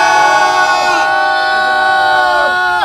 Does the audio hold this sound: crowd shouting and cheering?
yes